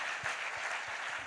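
Church congregation applauding the Lord during a service: dense, continuous clapping from many hands filling the room at moderate loudness.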